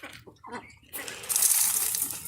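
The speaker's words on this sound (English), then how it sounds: "to refill with nice fresh ice cold water for them" Fresh water filling a container for farm animals, a steady rushing pour starting about a second in after some quieter handling noises, close and moderately loud.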